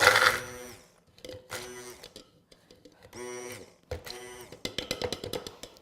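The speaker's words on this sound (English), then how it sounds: "I'm going to use the immersion blender, my favorite thing" An immersion blender runs in short separate bursts while garlic and garbanzo beans are prepared, each whir starting and stopping with brief quiet gaps between.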